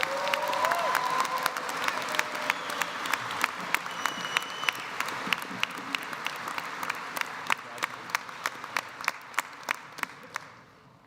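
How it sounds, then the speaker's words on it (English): A crowd at a spring commencement ceremony applauds an award recipient, broad sustained clapping that fills the hall and gradually thins to a few scattered claps before stopping. "Let's give him a round of applause."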